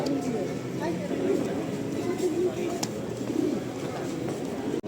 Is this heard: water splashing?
no